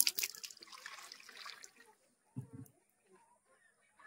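Water splashes and swishes as a pigeon's water bowl is rinsed and washed, with a busy stretch of running water, a pause, then a few short splashes and faint drips nearby.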